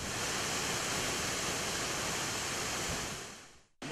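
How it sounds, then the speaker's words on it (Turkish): Girlevik Waterfall rushes with a steady, loud broadband roar of falling water, continuous for several seconds before cutting out abruptly and returning. "Girlevik Şelalesi doğal güzelliği ve serin havasıyla yerli ve yabancı turistlerin ilgisini"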